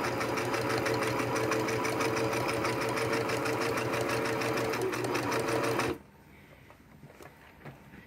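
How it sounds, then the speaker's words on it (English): A Singer sewing machine runs a straight stitch with a fast, steady mechanical whir and rapid needle chatter for about six seconds, then stops abruptly, leaving quiet room sound. "this is just simply doing a straight stitch."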